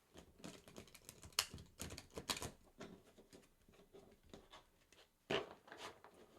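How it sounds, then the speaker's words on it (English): Tarot cards are shuffled, a rapid flurry of soft flicking and riffling clicks in uneven bursts, close by and fairly quiet. "One more shuffle."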